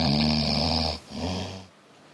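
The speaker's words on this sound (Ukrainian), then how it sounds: "Аби зрозуміти, чи зміниться гучність хропіння, ми вирішили зафіксувати звук до початку використання браслету." A woman snoring in her sleep, two close, loud rasping snores with a throaty buzzing tone, the second slightly softer, followed by a quiet pause.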